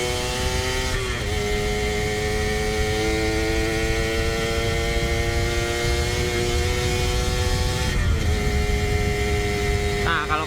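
A Suzuki Satria R 120 motorcycle engine running through its exhaust, a loud steady drone with rising revs, held high and level, with brief dips in pitch as the throttle is worked.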